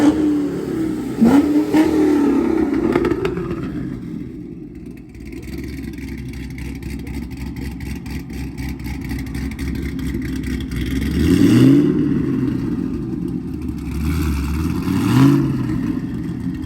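Chevrolet Camaro SS fitted with a CORSA X-pipe exhaust revs a few times from idle, loud and nearby, with deep blips rising and falling over a rumbling idle.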